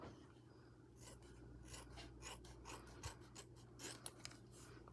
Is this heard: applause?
no